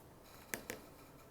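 Scissors snip through a stack of fabric near a template layout sheet, two sharp close cuts in quick succession against a quiet room.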